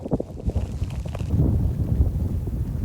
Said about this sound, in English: Wind is just so bad, and it is freezing out here.